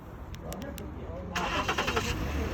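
A Ford Explorer starts by remote autostart: a few faint clicks, then the engine turns over and settles into a steady idle nearby, with quiet talk around it.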